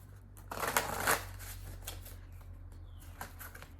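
Tarot cards are shuffled softly by hand, a quiet riffling burst near the start followed by lighter card rustles over a low steady hum.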